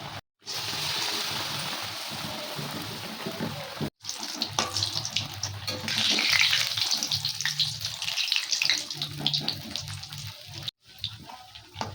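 Gram-flour-battered bread pakora frying in hot oil in a wok, a steady bubbling sizzle that swells and crackles throughout, heard close with no talk.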